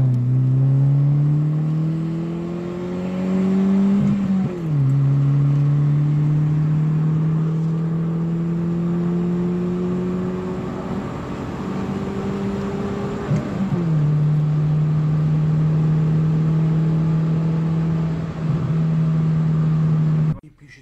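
A BMW E36 1.8 ti four-cylinder revs hard while being driven, its engine note climbing steadily through the gears with distinct shifts, loud and close throughout with no talk.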